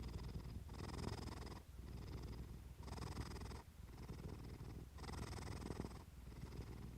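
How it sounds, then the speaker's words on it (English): A cat purrs steadily and close up in a calm night setting, with long rhythmic rumbling breaths that swell and fade in a regular cycle of about one and a half seconds, alone with no voices. "The purring continues, and the night grows deeper."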